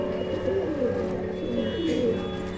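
Domestic pigeons at a home coo softly and repeatedly nearby, a steady throaty burbling that carries on throughout.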